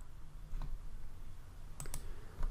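A computer mouse clicks to download a file: a faint tap, then two quick close clicks in succession over a steady low background hum, with no talk.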